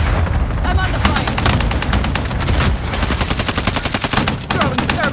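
Heavy gunfire in the Warzone video game, dense rapid bursts of automatic fire with a brief pause midway, loud and close throughout.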